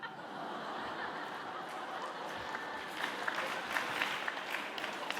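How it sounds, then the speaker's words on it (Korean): A church congregation at a Wednesday service applauds, a soft, scattered clapping mixed with chuckles and laughter that picks up slightly partway through. "왜 박수 치시죠?"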